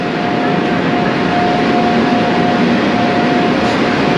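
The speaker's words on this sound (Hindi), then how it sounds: "ये भाई हमारा हाई स्पीड ट्रेन का लोकोमोटिव।" Steady, loud rumbling roar of a Haramain high-speed rail train, heard from on board during a run between Makkah and Madinah, with a constant tonal hum running through it and no talking.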